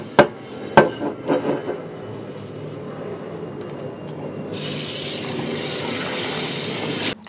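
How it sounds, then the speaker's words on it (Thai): A coated FIKA pan is washed with a sponge and dish soap: a few sharp clinks of cookware at the start, then steady running water from about midway on, close and fairly loud with no talking. "ล้างด้วยฟองน้ำนะคะใช้น้ำยาล้างจานด้วยค่ะ"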